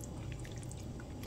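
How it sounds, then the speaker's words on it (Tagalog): Water poured into a pan to make steam while a sandwich is prepared, a soft continuous splashing and trickle, quiet and close, with no talking. "So, lagyan natin ng tubig."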